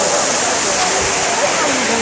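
Kailasakona waterfall in Chittoor, Andhra Pradesh, pours from about 40 feet high, making a steady, loud, close hiss and roar of falling water that fills the whole moment.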